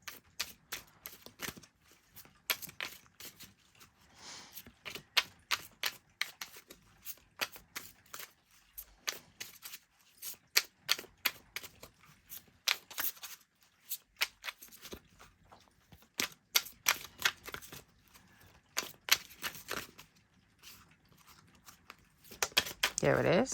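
Tarot cards being shuffled by hand, a deck bent from repeated shuffling the same way, giving quick close papery riffles and crisp snaps in irregular bursts, quiet with a few louder flicks.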